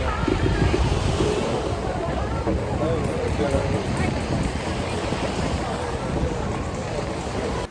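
Surf rolling onto a Miami beach with gusting wind buffeting the microphone, a constant loud wash under a voice speaking throughout.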